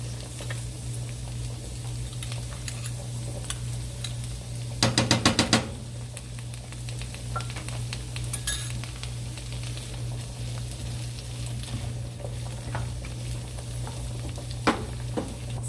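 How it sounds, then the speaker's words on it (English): Asparagus and minced garlic sauteing in butter and olive oil, a steady soft sizzle with a low hum beneath, broken by a brief burst of clatter partway through and occasional light taps from the pan. "we're just going to let those saute in the butter and olive oil for about 3 to 5 minutes"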